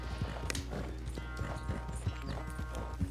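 Horse hooves clip-clop in Red Dead Redemption 2, a quick uneven rhythm of clear knocks over a low mechanical game hum. No distinct whinny stands out.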